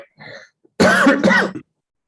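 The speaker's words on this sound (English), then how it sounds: "It's a leftover cough." A person coughs once, a short rough cough burst, followed by a louder, longer throat-clearing cough of about a second, close to the microphone in a quiet room.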